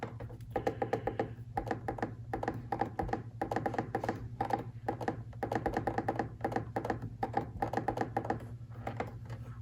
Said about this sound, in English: Now I put the password in,